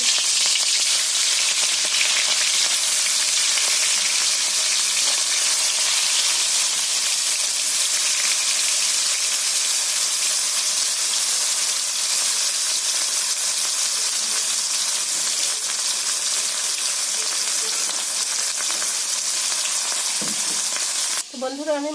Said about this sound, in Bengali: তো মাছগুলো কড়াইতে দিয়ে দিচ্ছি।